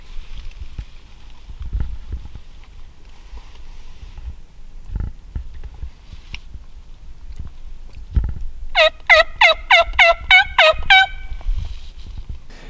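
A wild turkey gobbles in a rapid rattling burst partway through, preceded by low wind and rustling outdoors in Michigan during a turkey hunt.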